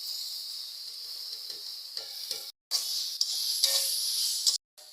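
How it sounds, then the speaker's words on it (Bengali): Leafy greens frying with eggplant in oil, a steady loud sizzle that runs throughout, swelling and dipping as the pan is stirred, with two brief complete dropouts. "বেগুনটা ভাজা ভাজা হয়ে গেছে এবার শাকটা আমি দিয়ে দিচ্ছি"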